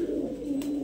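High-flyer running pigeons coo in a low, throaty rolling murmur, close and continuous through a brief moment with no speech.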